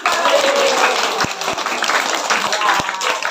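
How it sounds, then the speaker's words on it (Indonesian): A small group claps at a family birthday celebration, scattered applause mixed with chatter and a few sharp knocks over a few seconds. "Ya, semua tepuk tangan."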